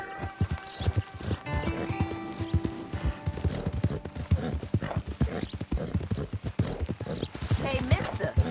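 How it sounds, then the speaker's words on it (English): Horse hooves clip-clop steadily in Red Dead Redemption 2 as the horse walks along, a close, continuous rhythm with voices talking over it and a whinny-like cry mixed in. "that's one nice-looking horse you got there"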